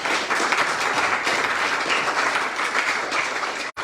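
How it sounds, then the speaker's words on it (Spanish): A church congregation applauds loudly and steadily in praise, a dense, sustained wash of clapping from many hands that runs almost without pause, with a brief break near the end. "Démosle un aplauso fuerte al Señor."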